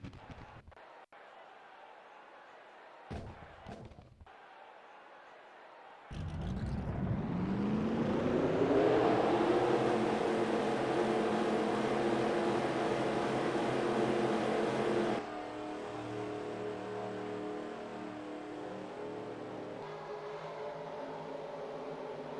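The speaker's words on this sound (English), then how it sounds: "Drivers, start your engines!" Forty stock car engines firing up at Daytona for the Pepsi 400, a few faint clicks and bursts, then a swelling, sustained roar of many engines revving together, settling into a steady rumble under an announcer's voice.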